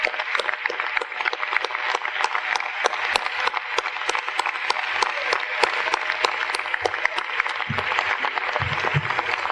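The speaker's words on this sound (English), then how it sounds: "I'd like everybody else to stand up now and give them applause" Audience applause for academy players and students at the Zions Bank Real Academy grand opening, a steady, dense spatter of many hands clapping at close-to-medium range, with a few low voices underneath toward the end.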